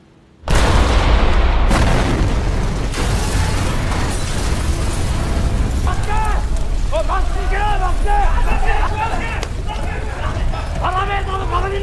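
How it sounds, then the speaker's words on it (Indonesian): A loud boom from a nuclear reactor unit exploding bursts in and settles into a sustained roaring rumble, with voices and alarms rising over it. "Tiba-tiba, mesin nuklir unit 1 meledak."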